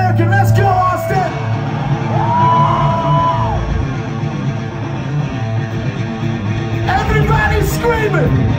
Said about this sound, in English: Everybody screaming.